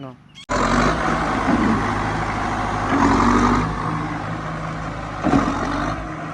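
A modified Hindustan 110 HP tractor with its engine swapped out runs steadily nearby, a loud, low diesel drone that starts abruptly and holds with slight swells in revving, while a voice talks over it.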